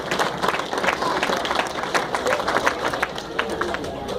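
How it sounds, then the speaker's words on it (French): A crowd at a Congolese community International Women's Day gathering in Cincinnati applauds, busy clapping mixed with background chatter and murmuring voices throughout. "Nous les remercions, nous devons applaudir."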